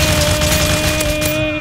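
A rapid burst of loud gunfire, shots fired in quick succession close by, with a steady electronic tone running underneath.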